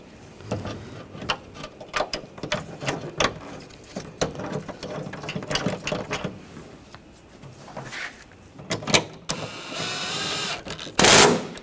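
A ratchet tightens a bolt on the master cylinder of a 2014-2018 GMC Sierra 1500, with rapid irregular clicking strokes close by, then a brief sustained higher whir and a sharp final clank, with no talk.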